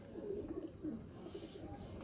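Rampuri pigeons at the Shahdara pigeon market in Lahore give low, soft cooing that rolls on steadily, faint and close, with no talk over it.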